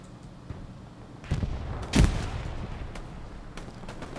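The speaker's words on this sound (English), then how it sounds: "Skype is on there with his MG" Gunfire in the World War II shooter Hell Let Loose on the Sainte-Marie-du-Mont map, with a few faint distant shots and one sharp, louder report in the middle against quiet battlefield ambience.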